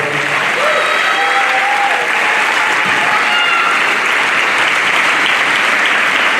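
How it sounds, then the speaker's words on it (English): Sustained applause from a large crowd at a senior awards ceremony, dense and steady clapping throughout with a few faint voices mixed in. "Let's give all our award winners and our seniors another round of applause."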